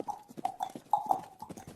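Horse hooves beat out a quick galloping clip-clop, a tight run of firm, close knocks with no voices.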